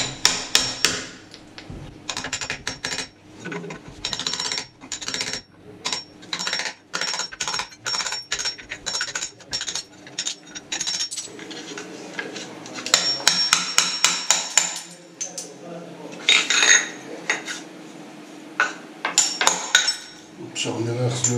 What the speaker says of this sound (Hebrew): מה שעוד כאן מפריע פה זה הרומבה פה בצד, אז אנחנו נשבור אותה טיפה בכל זאת